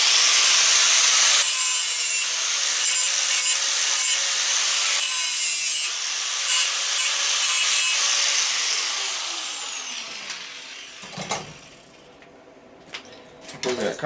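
Brass and copper metal being ground with a power tool, a loud continuous abrasive whine running for several seconds before tapering off into quieter scrapes and short bursts near the end.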